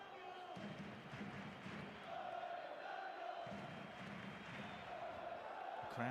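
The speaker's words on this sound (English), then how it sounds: "The crowd doing their part here, the Sánchez-Pizjuán" Stadium crowd at the Sánchez-Pizjuán during a Sevilla versus Barcelona LaLiga match, a steady loud roar of massed voices with surging swells.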